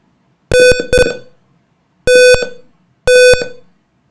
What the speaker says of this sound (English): If I put the incorrect password, such as 1011, the buzzer will sound on and the LED will turn on.